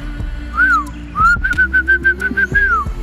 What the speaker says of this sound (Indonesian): ini anak-anak melakukan yang namanya siulan, bersiul